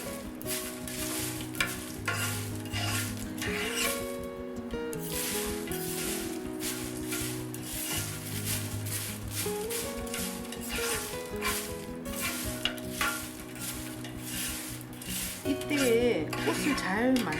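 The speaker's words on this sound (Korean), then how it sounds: "타지 않게 저어주셔야 되거든요." Rose petals stirred in a hot pan for flower tea, a steady sizzle with continuous scraping and light clinks of a utensil against the pan, close, with a voice talking over it.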